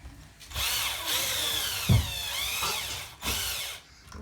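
A power drill whirs in a few sustained bursts while unscrewing screws from the chassis of a Pro-Line Pro-MT 4x4 1/10-scale RC truck, close and fairly loud, with brief pauses and small clatters between runs.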